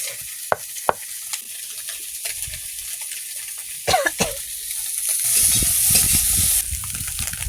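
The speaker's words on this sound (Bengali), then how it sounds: "এই মাছগুলো ভাজা হচ্ছে" Small mourala fish frying in oil in a pan, a steady hiss of sizzling with scattered clinks and stirring knocks, swelling louder toward the end.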